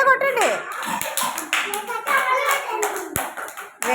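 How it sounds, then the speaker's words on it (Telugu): Anganwadi children clapping their hands for a classmate: a burst of quick, uneven claps from a small group, close and fairly loud, mixed with children's voices and an adult talking. "క్లాప్స్ గట్టిగా కొట్టండి."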